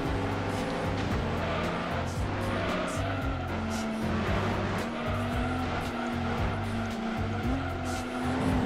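A Peugeot race car in the racing video game Gran Turismo 2 revs with a buzzing, shifting engine tone, steady and prominent, with tire squeal and skidding noises mixed in.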